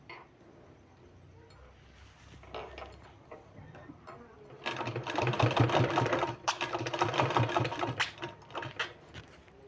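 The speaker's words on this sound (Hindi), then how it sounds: "इस तरह से सिलाई लगाने के बाद इसको हमको इस तरह से फोल्ड करके और इसमें हमको सिलाई लगा देना है इस तरह से" A sewing machine stitches a folded sleeve, quiet at first, then a louder steady run of rapid needle ticks that keeps going to the end.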